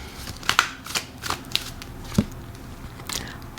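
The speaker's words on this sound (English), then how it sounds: "Let's pull a few more oracle cards here" A deck of oracle cards is shuffled by hand, giving a series of soft, close riffling snaps and flicks in an irregular rhythm against a quiet room.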